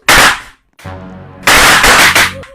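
Loud, sharp cracks of stick hits in a Roblox obby game come in bursts of rapid repeated impacts, with a brief ringing tone between them, up close and without talk.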